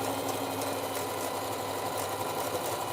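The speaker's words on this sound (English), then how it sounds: "Okay, and so I will sew a little bit." A sewing machine runs steadily in zigzag stitch on a child's jacket being embroidered, a continuous close, loud whirring hum with no pauses and no voices.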